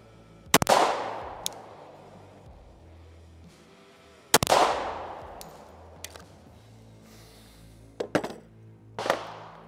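Pistol shots fired at a target while a red dot sight is zeroed at 25 yards: loud single reports spaced a few seconds apart, each ringing out with a short echoing tail, two of them coming closer together near the end.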